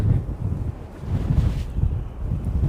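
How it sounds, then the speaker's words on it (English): Cold wind buffets the microphone at Blyth Harbour in Northumberland, a low rumbling roar that swells and eases in gusts, close and fairly loud with no voices. "That wind's getting up."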